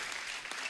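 A studio audience breaks into a brief, dense burst of applause, steady and fairly loud throughout.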